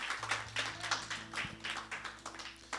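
A church congregation claps hands in praise during a Spanish-language service, a quiet, steady rhythm of sharp claps roughly three per second, fairly distant, with a low hum underneath.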